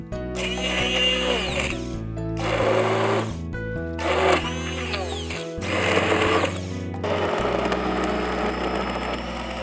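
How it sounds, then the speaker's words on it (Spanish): Hand blender whirring as it purees a warm cream cheese (requesón) dessert with cinnamon, the motor running in several loud bursts with brief pauses between them as the pitch shifts under load. "Ahora, con ayuda de una batidora, vamos a hacer puré."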